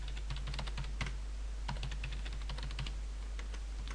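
Someone types a simple password on a computer keyboard during a BizTalk Server configuration, producing soft, close clicks in quick bursts with short pauses between, over a steady low hum.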